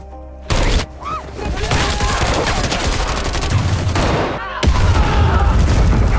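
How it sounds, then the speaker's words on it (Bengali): Heavy gunfire erupts in an action movie scene of special commandos ambushed at a house, a dense loud fusillade of rapid shots and booms with no pause for several seconds. "বৃষ্টির মতো গুলি ছুটে আসতে শুরু করে"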